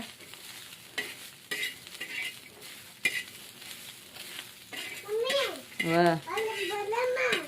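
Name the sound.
onion and tomato frying in a pan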